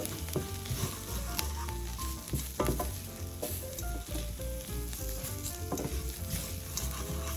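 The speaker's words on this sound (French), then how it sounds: "Toujours sur feu doux pour mélanger." Coral lentils and vegetables with ground coriander sizzle steadily in a pan over low heat, a dense continuous frying hiss broken by occasional scrapes and clinks of stirring, close and without talk.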